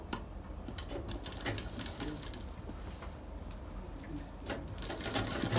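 A sewing machine stitches piping onto a blouse, with a fast steady mechanical patter running continuously and fairly quietly, no voices over it.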